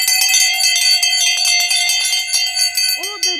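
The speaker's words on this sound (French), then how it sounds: "les cloches reprennent leur chant pour carillonner à toute volée" Church bells pealing at full swing for Easter morning, bright overlapping ringing strokes sounding close and loud, continuous throughout, with a short sliding tone near the end.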